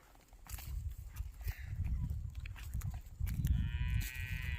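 A pair of bulls is being shown for sale outdoors, and one gives a low, faint moo under a steady shuffle of hooves and rustling.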